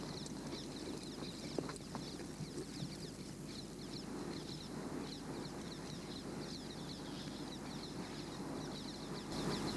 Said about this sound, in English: on his handsome steed called Ali Baba, a lovely bay horse who looks equally proud to be on parade today